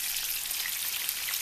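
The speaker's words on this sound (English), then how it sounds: "Make sure you can see these frying away." Pancetta-wrapped green bean bundles sizzle and crackle steadily in hot oil in a pan, a dense, even frying hiss with no voices.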